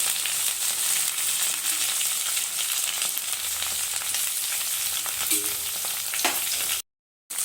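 Okra (bendakaya) frying in oil in a pan for a tamarind chutney, a continuous crackling sizzle with a few faint clinks of utensils and a short gap near the end.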